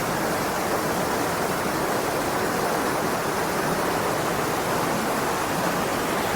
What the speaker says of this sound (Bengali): আপার ড্যামের যে গেট আছে এই গেটের মধ্যে একটা লিকেজ আছে